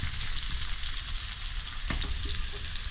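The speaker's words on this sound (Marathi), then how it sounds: "फुलताना बरं, चांगलं परतून घ्यायचं मस्त पैकी" Garlic and onion sauté in hot oil in a pan, a continuous, fairly close sizzle and crackle, steady throughout with a brief clink partway through.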